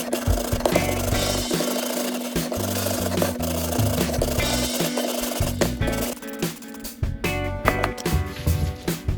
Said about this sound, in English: I use a wire and nylon brush and degreaser